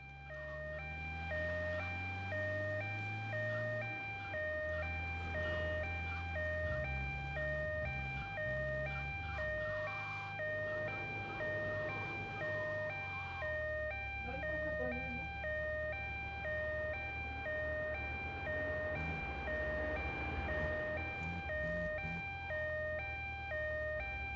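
An ambulance siren from the PS2 game GTA Vice City Stories wails continuously in a steady two-tone cycle throughout, loud and close, over in-game engine hum and background game sounds.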